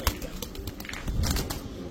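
Pakistani racer pigeons, young red checker birds, coo softly in short repeated throaty bursts at a pigeon market, fairly faint, with light rustling and background noise and no talk.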